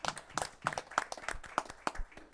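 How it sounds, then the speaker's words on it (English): Round of applause at a city council meeting in Yukon, Oklahoma: a modest group clapping steadily with uneven, separate claps, fairly close and moderately loud, no talking over it. "we all need to give John a round of applause for his 100."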